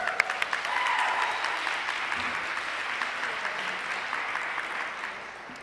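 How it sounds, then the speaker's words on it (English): An audience applauds presenters at an evening of cultural presentations, a sustained burst of clapping from a crowd that gradually thins and fades. "can we get one more last round of applause for all of our presenters?"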